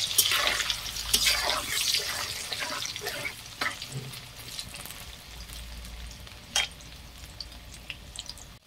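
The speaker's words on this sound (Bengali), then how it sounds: "আলুগুলো আমার ভাজা হয়ে গেছে" Potatoes fry in oil in a pan for a chicken curry, a soft continuous sizzle with occasional stirring scrapes and clinks, close and fairly quiet.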